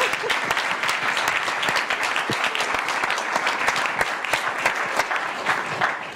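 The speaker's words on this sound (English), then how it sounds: "Let's give them another round of applause." A room full of audience members claps for the panelists at the close of a housing voter forum, a steady, dense round of applause lasting throughout, fairly close and even, with no talking over it.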